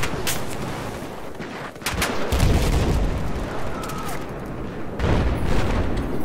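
Battlefield 4 gunfire on the Paracel Storm map in Rush mode: sustained, dense shooting with heavy booming reports layered over constant battle noise, loud and close throughout.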